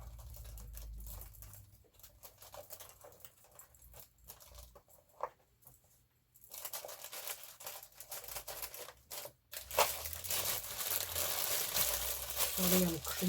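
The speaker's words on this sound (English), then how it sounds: "Sorry, I'm crinkling about." Paper crinkles and rustles during crafting with ribbons and laces, with irregular crackling bursts that grow louder and denser toward the end, close to the microphone.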